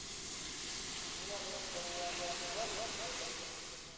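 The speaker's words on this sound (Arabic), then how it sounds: "نطرع المويه الحار، لازم تكون المويه حاره" Hot water poured into a pan of fried onions and tomatoes, giving a steady, loud steamy hiss that rises slightly midway and tapers off toward the end.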